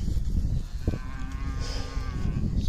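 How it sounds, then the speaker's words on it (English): A cow on a farm moos once in a drawn-out, fairly close call, hollering toward the rest of the cattle herd, with a steady outdoor background and no talk. "I actually like that she's hollering at the other cattle"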